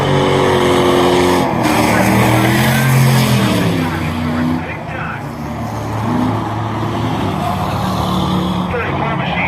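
Loud race engines from trucks and cars, including the 34 truck, roar around the M-40 Speedway during a Night of Destruction event, with a commentator talking over the continuous engine drone.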